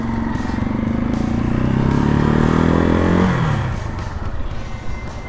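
Janus Phoenix 250 lightweight motorcycle ridden, warmed up: a steady close engine drone with rising revs and gear changes, then easing off, rough wind and road noise throughout, no talk.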